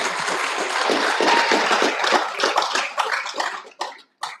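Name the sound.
applause for the speakers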